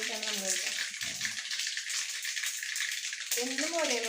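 Mustard seeds, with split lentils and black gram, crackle and pop rapidly in hot oil for a bean thoran, a dense sizzling spatter throughout, with a person talking at the start and end.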